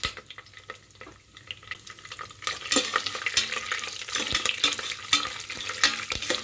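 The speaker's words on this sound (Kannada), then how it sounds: "ಸ್ವಲ್ಪ ಫ್ರೈ ಮಾಡ್ಕೊಳ್ಳೋಣ ನೀಟಾಗಿ." Dry red chillies, cashews, curry leaves, chana dal and urad dal sizzle in a pan for vangi bath, with crackling frying and scraping stirs building after a quieter start, close and without talk.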